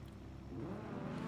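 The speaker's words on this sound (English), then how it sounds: "we can hear the engines rev up in the background" Racing car engines of Porsche and Audi cars in the RENNSPORT racing game at Daytona, a steady layered engine drone with rising revs, loud and continuous throughout.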